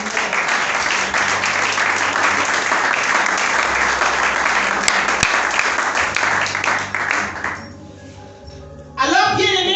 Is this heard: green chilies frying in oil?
no